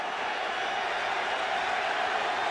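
A crowd cheers at Ralph Wilson Stadium during an NFL game, a dense, steady roar of many voices filling the stadium with no breaks.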